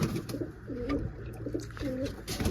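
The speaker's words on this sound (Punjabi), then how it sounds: "ਇੱਥੇ ਬੈਠੇ ਹੋਣੇ ਕਬੂਤਰ" Pigeons coo nearby in soft, throaty bursts, two rolling calls heard one after the other over faint rustling.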